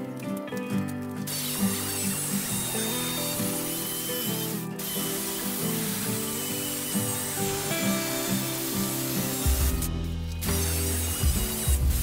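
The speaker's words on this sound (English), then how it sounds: "Next up, we're gonna drill a hole through here to get the jigsaw started. And then we're just gonna go around and cut this out." A jigsaw cuts a window opening in a wooden tiny house wall, buzzing loud and close in long runs broken by brief pauses where the blade stops and restarts.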